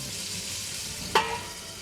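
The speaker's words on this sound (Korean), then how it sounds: "그래서 이렇게 튀기고 있는 동안에 우리 장비들에게 기름이 다 튈 수도 있으니" Chicken pieces deep-frying in hot oil in a home kitchen give a steady, close crackling hiss that runs throughout, with one sharp pop of spattering oil near the end.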